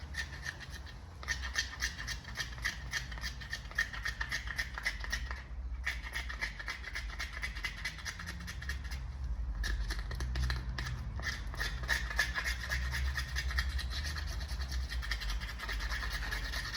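Body filler is spread as a skim coat over a car panel, heard as rapid, repeated scraping strokes from a spreader, broken by short pauses; the noise is close and steady with no speech.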